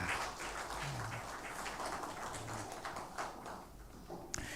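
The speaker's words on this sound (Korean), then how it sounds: "은혜로운 찬양해 주신 우리 성가대원들에게 다시 한번 감사의 박수 하겠습니다" A church congregation at a Hanyang University Sunday service applauds the choir after its hymn, a soft, distant spread of clapping that holds steadily and quietly fades out.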